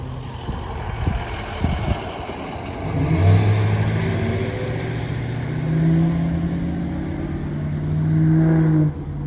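A car passes over a railroad crossing on a warm day, its engine rumble swelling up close and then fading, steady road noise throughout with no talk.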